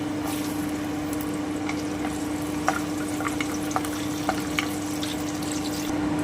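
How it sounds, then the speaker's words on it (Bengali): Cashew nuts frying in oil for a white paneer dish, giving a steady soft sizzle with a faint low hum and a few scattered light pops and clicks of the nuts shifting in the pan. "এবারে এই তেলে আমি কাজু বাদামটা একটু ভেজে নিচ্ছি"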